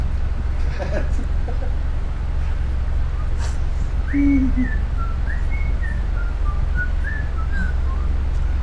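A person whistles a short wavering melody over steady low background hum, a faint, high tune of several sliding notes in the latter half.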